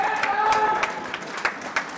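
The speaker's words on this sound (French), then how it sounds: "on entend ici les applaudissements de la foule sur la glace B" Spectators at a curling match give scattered applause on a distant sheet of ice, heard as a few sharp claps under a sustained tonal hum and some voices.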